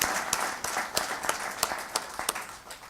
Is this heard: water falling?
no